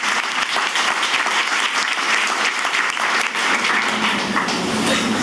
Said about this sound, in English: Give me a standard applause,